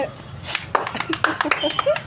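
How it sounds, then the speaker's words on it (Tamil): Children clap their hands in a quick, uneven scatter of claps close by, mixed with excited young voices chattering over them. "எல்லோரும் கைத்தட்டுங்க"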